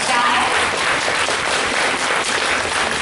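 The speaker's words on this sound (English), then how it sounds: "Let's give Elizabeth Maxwell a big round of applause." Loud, dense applause fills a room at an anime festival Q&A panel as the crowd cheers for voice actress Elizabeth Maxwell, a continuous roar of clapping hands heard close and unbroken.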